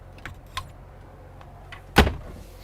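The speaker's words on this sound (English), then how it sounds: "All right, so I'm gonna go ahead and shut the door." The entry door of a Newmar Super Star motorhome shuts with a single sharp thud near the end, after a few faint clicks and rustles, close by and without talk.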